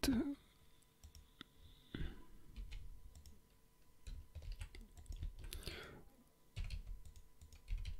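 Computer mouse clicks in Blender, soft scattered clicks close to the microphone under quiet room noise and intermittent talking.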